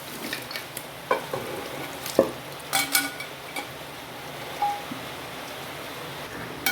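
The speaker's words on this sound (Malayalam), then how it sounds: "ഇട്ട് ഇനി ഇളക്കി കൊടുക്കുകയാണ്" Beef frying in a masala of onion and coriander powder, stirred in the pan: a soft, low sizzle broken by scattered clinks and scrapes of the spoon against the pot, fairly quiet and close.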